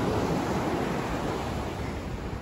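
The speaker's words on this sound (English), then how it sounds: "And the waves are huge." Large ocean waves surging at night with strong wind, a broad continuous roar of surf and gusts buffeting the microphone, with no talk over it.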